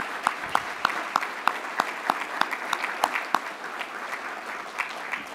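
Banquet audience applause at a farm charity dinner, a modest crowd clapping with several sharp individual claps standing out over a softer steady patter, fairly even for about five seconds, no talk.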